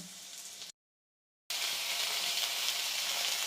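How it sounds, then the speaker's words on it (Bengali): Onions fry in a pan with a soft, steady hiss that cuts out abruptly into near-silence for a moment, then resumes at the same even level. "পেঁয়াজটা এভাবে ভাজতে আস্তে লাল হয়ে যাবে"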